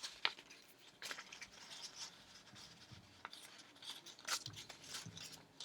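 Paper lantern pieces being folded together: soft, faint rustling and rubbing of paper with a few sharper crinkles scattered throughout.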